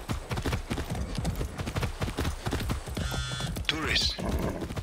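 Horse hooves clip-clopping in the open-world shooter Far Cry 6, a steady rapid beat of hoofsteps close up and loud, with game sounds layered on top.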